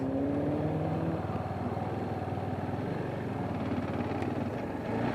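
A KTM 690 Duke single-cylinder engine running while riding, a close, steady throbbing drone at a fairly even pace with a slight shift in pitch partway through, no talking.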